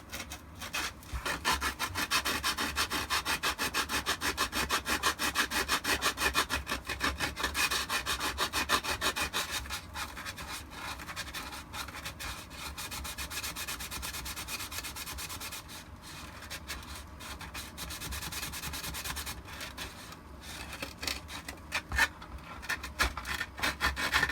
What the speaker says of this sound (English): when I hit it with sandpaper, it should look pretty good